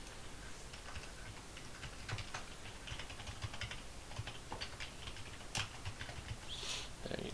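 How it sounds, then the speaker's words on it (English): Steady typing on a computer keyboard, a quick run of close, light clicks and taps with no voices over it. "I typed this IP address wrong."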